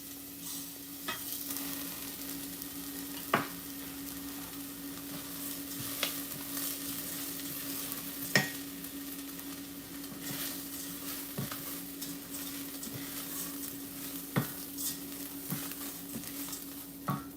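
Rice toasts in a pan with browned mushrooms for risotto, a soft steady sizzle broken by repeated scraping stirs and light utensil taps against the pan, with no talking.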